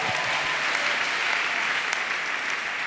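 A church congregation applauds steadily throughout, a dense, continuous wash of clapping from a large indoor crowd with no pauses.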